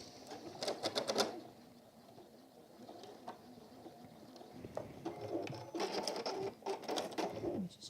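Sewing machine stitching a lined deluxe apron, two short bursts of rapid whirring stitches separated by a quiet pause, moderately near and fairly soft.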